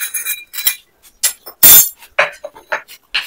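Several light clinks and knocks of a hard bowl being handled and set down on a surface, close by, in irregular bursts.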